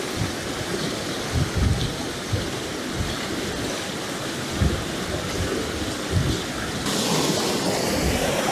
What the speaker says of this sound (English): I don't really need the rain right now.